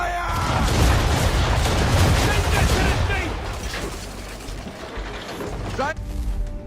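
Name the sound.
ship cannons firing a broadside, from video game Assassin's Creed 3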